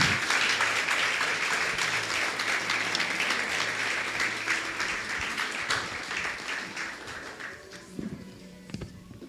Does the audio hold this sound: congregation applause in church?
yes